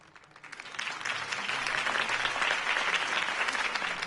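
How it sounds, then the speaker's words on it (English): Applause from a crowd after a campaign speech, clapping rising quickly and holding steady as a dense, sustained wash of hands. "could have heard that applause"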